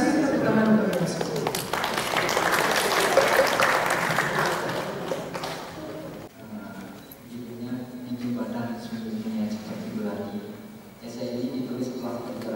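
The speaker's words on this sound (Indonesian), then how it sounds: "tepuk tangan untuk yang semua" An audience at a literary evening claps in a dense burst of applause that fades after about six seconds, then a voice speaks over quieter room tone with scattered faint sounds.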